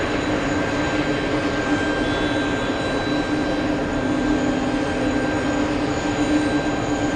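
A passenger jet landing on runway 22 left at JFK airport in the evening gives a steady, continuous engine roar, moderately loud and unbroken, with a faint high whine running through it and no talk.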